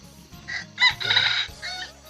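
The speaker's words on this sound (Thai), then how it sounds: "ไก่น้อย" Chickens cluck and call close by in a rural Lao village farmyard in the morning, several short, fairly loud bursts over a low background hum.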